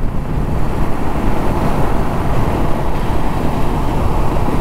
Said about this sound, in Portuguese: 110, 120 a moto já tá esgoelando